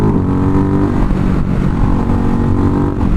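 A motorcycle riding along a road, its steady mid-pitched engine drone loud and close throughout with wind noise, holding an even tone without clear revving peaks.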